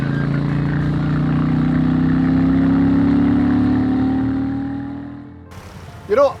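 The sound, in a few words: engine exhaust note through dual pea shooter pipes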